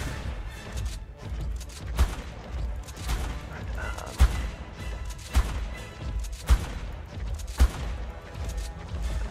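Gunfire in the video game ARK: Aberration, sharp periodic shots with thuds over a dense rumbling game soundscape, a single shot roughly every second or so.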